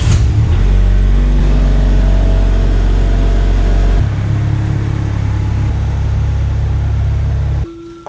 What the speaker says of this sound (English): first I take my Lexus out of the garage and put the Tesla in